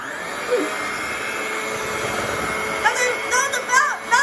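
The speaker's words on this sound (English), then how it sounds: "Now we're gonna go back to the mixing with my nice, good buddy hand mixer" An electric hand mixer whirring steadily through cookie dough, a continuous close motor drone with a brief voice near the end over it.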